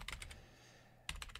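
Keys on a computer keyboard are tapped in two quick clusters, a few light clicks at the start and another short run near the end, close up, with a quiet pause between.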